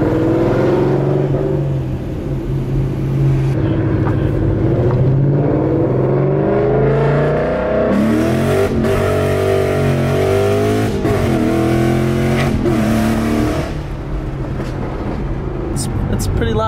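A 2013 Mustang GT engine revs loudly up and down in repeated close, throaty pulls, its deep roar filling the whole stretch while people talk over it.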